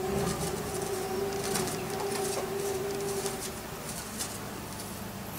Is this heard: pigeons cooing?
yes